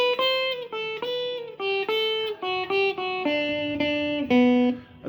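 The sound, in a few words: guitar playing a riff, picking each note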